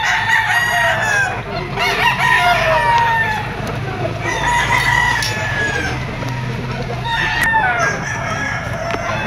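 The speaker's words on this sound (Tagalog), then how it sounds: "Manok to mga tol ni Kuya Dodong. Lemon 84 daw ang bloodline nito mga tol." A Lemon 84 bloodline gamecock crows repeatedly at a pet market, loud and close, among clucks from other fowl and a busy background murmur of people.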